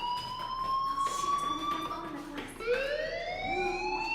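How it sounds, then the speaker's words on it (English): A school fire alarm sounds in the game Life Is Strange as a steady electronic tone that sweeps and slides in pitch. It sits close and continuous, with a brief dip partway through, and a voice talks over it. "Hey, do you hear that fire alarm? That means you should be outside."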